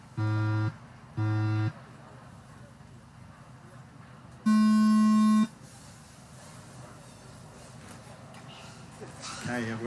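Two short electronic race start beeps followed by one longer, higher beep, loud and evenly spaced, with a faint background hum and murmuring, at a model air show.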